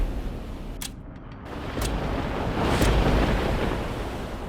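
Ocean surf rolling onto the Andhra Pradesh coast, a steady broadband wash with wind buffeting the microphone, swelling louder toward the end as a wave breaks.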